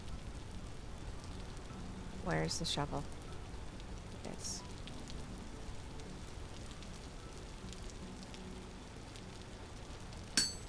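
Steady rain patters on the ground in the survival game Vintage Story, a continuous hiss that stays even throughout, with someone speaking briefly over it and a couple of short clinks from handling items.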